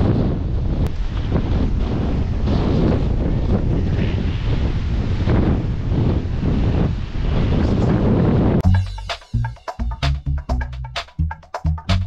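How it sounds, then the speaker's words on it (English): Strong coastal wind buffets the microphone in a loud, continuous roar for several seconds on the Valdez Peninsula shore, then drops into gusty, broken bursts as the wind noise cuts in and out. "it is very windy"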